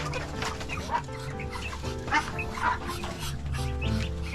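Gamecock chickens cluck and chatter in a busy yard, with several birds calling over one another alongside low background noise and a possible dog nearby.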